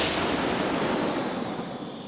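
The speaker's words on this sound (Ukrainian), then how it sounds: "Гармата постріл!" A single heavy blast from an old American howitzer, with a long rolling roar that slowly fades, loud and close, no voices.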